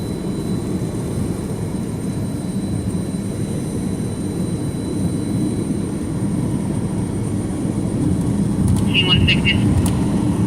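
A C-160 military transport aircraft flies overhead, a steady broad low roar of engines and propellers filling the whole stretch, growing slightly louder toward the end, with brief voice-like sounds near the close.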